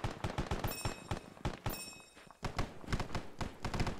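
Rapid bursts of automatic gunfire in a WWII milsim video game, sharp repeated shots in quick rhythmic volleys, with a brief lull midway before the firing resumes, fairly close and loud.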